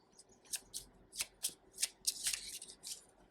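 Tarot cards are shuffled by hand, a run of about nine crisp riffling bursts in an uneven rhythm, close and clear in a quiet room.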